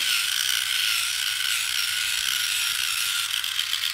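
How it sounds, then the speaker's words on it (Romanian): A Scholl Velvet Smooth rotating electric foot file whirs steadily and closely as its spinning abrasive roller buffs away dead, excess skin, a continuous even mechanical buzz with a faint rattling texture and no talking. "Pila înlătură celulele moarte și pielea în exces"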